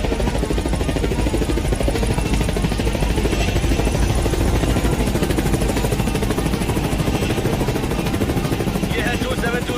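An aircraft taking off, heard as a loud, continuous engine roar with a throbbing, rotor-like buzz that fills the whole stretch, while a voice speaks over it.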